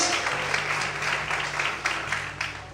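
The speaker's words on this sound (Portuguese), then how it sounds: "Você pode aplaudir o Senhor, aleluia." A church congregation applauding during a service, a dense continuous wash of clapping at moderate distance that carries on steadily throughout, with no clear speech over it.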